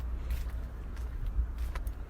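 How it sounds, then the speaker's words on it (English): A car passes by on a quiet outdoor soundwalk, a low steady rumble that swells slightly and fades, with faint footsteps and light ambient noise around it. "I could hear a car going past by me."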